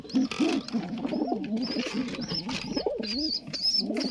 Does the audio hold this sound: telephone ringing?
no